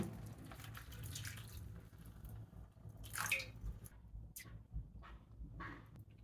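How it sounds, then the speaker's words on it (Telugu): Water poured into a pan of ice apple (palm fruit) kurma gravy, a soft splashing pour with a louder burst midway and gentle trickles after, close by with no talk. "ఇప్పుడు ఈ గ్రేవీకి సరిపడా నీళ్లు పోస్తున్నాను"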